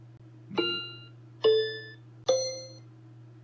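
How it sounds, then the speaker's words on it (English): Three bright chime-like tones ring out one after another at steady intervals, each decaying slowly over a low steady hum, like a slot machine's spin sounds. "I built a slot machine based on sound"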